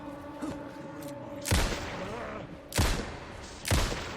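Gunfire in the video game Alan Wake 2, three loud, sharp shots spaced about a second apart, each with a booming tail, above a low game background.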